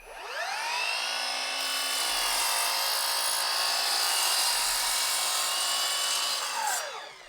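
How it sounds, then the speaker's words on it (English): A mitre saw, from a comparison of Milwaukee and Evolution models, crosscuts thin plywood. The motor spins up to a loud, sustained whine as the blade rips through the sheet for several seconds, then winds down; nobody talks. "I did want to test both of these saws' cross-cut capability. So here I've got a piece of thin plywood."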